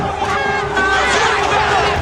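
An enraged crowd of slaves and masters in a Game of Thrones scene, a loud roaring mass of shouting voices rising into battle-cry yells, close and continuous throughout.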